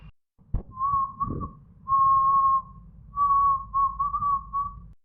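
A man whistles at a woman, using three sustained, steady whistled tones separated by short pauses, close and clear over a low background murmur and a brief knock.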